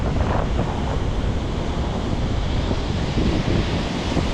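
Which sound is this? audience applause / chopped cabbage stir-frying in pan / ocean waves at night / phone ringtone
ocean waves at night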